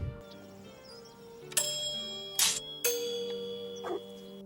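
A two-tone doorbell chime from the film Ferris Bueller's Day Off sounds a few times over a quiet room, followed by a fainter tone near the end.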